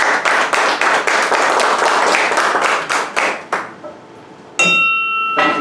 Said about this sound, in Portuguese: Saudemos o Farideão com uma salva de palmas